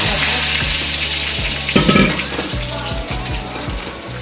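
Sambar spices tempering in hot oil, a steady broadband sizzle and crackle filling the clip, with soft stirring knocks beneath and no voices.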